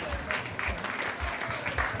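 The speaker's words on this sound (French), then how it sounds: "on les applaudit bien fort s'il vous plaît." Audience applauding local sports champions, including yole crews from Trinité, Martinique: steady, dense clapping from a crowd, fairly close and continuous, with a faint murmur beneath.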